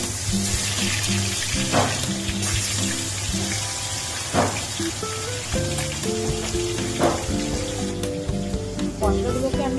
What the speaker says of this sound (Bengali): কড়াইতে তেল দিয়ে দিয়েছি, তেল গরম হয়ে গেছে। এবার আমি মাছগুলো দিয়ে দেবো।